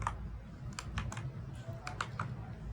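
Quick, light keystrokes on a computer keyboard while a Python print statement is entered, a close, soft run of irregular clicks with a low hum underneath.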